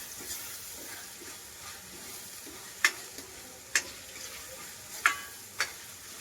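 Soft sizzling of peas and masala sautéing in a pan, with a few sharp scraping clicks from stirring at irregular intervals; fairly quiet and close.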